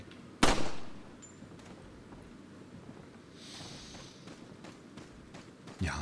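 Gunfire in the Resident Evil 4 video game: one sharp, loud shot early, then a quieter stretch with scattered faint clicks and a swishing burst, and another loud bang right at the end.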